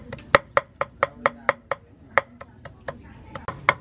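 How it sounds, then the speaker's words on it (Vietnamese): Knife chopping eel meat finely on a board: a quick series of about fifteen sharp, close, loud chops in a fairly steady rhythm, with a short pause midway. "Băm nhỏ ra cho vào."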